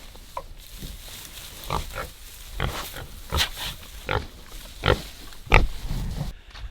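Pigs grunt and snuffle while chewing straw bedding, close by, in a steady run of short irregular grunts with rustling and no voices.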